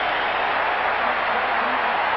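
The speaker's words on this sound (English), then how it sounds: "And the crowd loves it." A football stadium crowd roars steadily at a 1986 Chicago game after a long gain, a dense, continuous wash of cheering that fills the space with no break.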